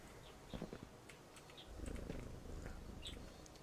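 A cat in the video game Viewfinder purrs as it is petted, a soft low rumbling purr that swells midway, quiet and close, with a few light clicks and no speech.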